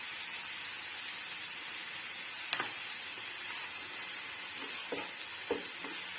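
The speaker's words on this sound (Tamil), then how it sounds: "கருவேப்பிலையும் போட்டு லேசாக வதக்கிக்கலாம்." Curry leaves, onion and ginger garlic paste sautéing in a pan for a restaurant-style chicken gravy give a steady, even sizzle throughout, with a few faint clicks of stirring and no voices.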